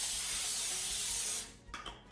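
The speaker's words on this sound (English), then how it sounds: "I'm gonna spray this non-stick stuff" Non-stick cooking spray aimed at a cake pan gives one steady, loud, close hiss lasting over a second. It then cuts off and is followed by a couple of small clicks and rustles.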